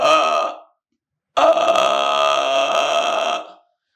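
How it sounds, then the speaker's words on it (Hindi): A person doing a yoga breathing exercise makes a prolonged open-mouthed hiccup-like gasp, one short burst followed by a pause and then a longer drawn-out, throaty breath, close and fairly loud. "मुंह खोल के हिचकी लो, अब हिचकी को लंबा करो"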